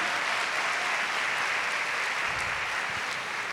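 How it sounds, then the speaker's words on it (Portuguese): A church congregation at a Portuguese-language service gives loud, sustained applause. Dense clapping fills the whole stretch at an even level with no break. "Você pode dar uma salva de palmas ao Senhor?"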